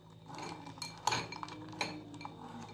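A spoon stirs a date and milk drink in a glass, giving several light, bright clinks at irregular intervals over soft swirling, close and fairly quiet, with no voices.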